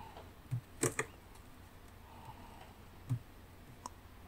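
Computer mouse clicking at a desk, a few sparse, sharp little clicks, some paired, spaced across a quiet room.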